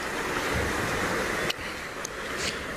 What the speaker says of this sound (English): And then they have this stream coming through, and you'll notice the big cement walls